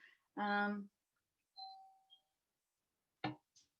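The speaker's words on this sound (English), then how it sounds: "That's my blooming doorbell, bear with me." A doorbell chimes softly with two short tones, set between brief bursts of nearby talking.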